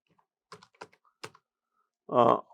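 A few separate keystrokes tap on a computer keyboard while entering data into an Excel sheet, quiet and close in an otherwise silent room, followed by a short louder burst at the end.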